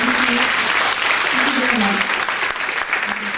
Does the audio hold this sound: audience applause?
yes